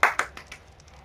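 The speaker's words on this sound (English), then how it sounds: "Big round of applause to everyone who came along." Two short bursts of clapping at the start of applause after a fashion show, then a few faint scattered claps trailing off into quiet.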